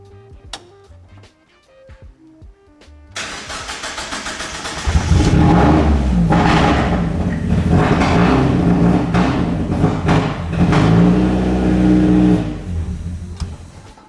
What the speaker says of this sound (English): Okay, so it runs, but I don't think the fuel pump's working.